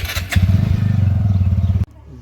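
A motorbike engine fires up and runs with a steady low chugging pulse for nearly two seconds before cutting off abruptly, loud and close, with a brief voice at the very start.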